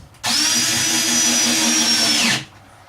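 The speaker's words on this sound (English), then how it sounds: "I'm using 1 5/8" screws here. I'll put that in." A power drill drives a 1 5/8 inch screw into a wooden wardrobe cabinet in a DIY travel trailer, one steady, loud whirring run of about two seconds that spins up and winds down, alone with no talk.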